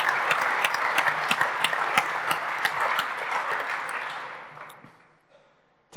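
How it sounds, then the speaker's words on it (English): An audience at an industry panel on modular automation with MTP gives the panelists warm applause. The clapping is steady and full for about four seconds, then thins and fades to near silence. "big applause for our panelists, giving us fantastic insights"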